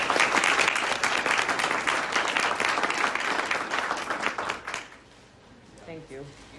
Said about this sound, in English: I would just like everyone to give her a round of applause for doing that